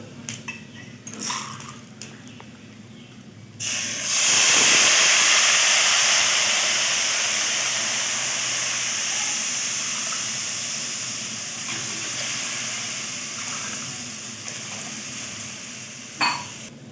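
A short rustle, then a sudden loud hissing gush as water hits a hot pot of rice for pulao, settling into a long, steady steaming hiss that slowly fades.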